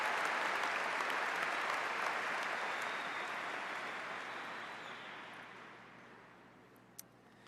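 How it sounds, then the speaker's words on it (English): A large graduation audience at Edina High School applauds the commencement band director, a broad continuous roar of clapping that fades gradually over several seconds, with one sharp clap near the end. "If we can give another round of applause to Mr. Paul Kyle directing our commencement band."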